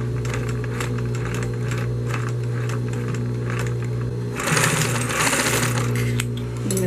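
Sewing machine stitching a fabric bag with a zipper, a steady, fast mechanical whir and rapid needle ticking close by, growing louder and busier partway through, with no talk.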